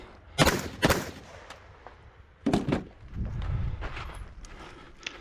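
Handgun shots ring out on steel targets and USPSA torsos at an outdoor 3-gun match, a few sharp, loud reports spaced irregularly with lower rumbling movement between them.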